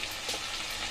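Ingredients for ghugni, the Bengali dried-pea curry, fry in a pan: a dense, continuous sizzle with faint stirring, steady and fairly quiet, with no voices.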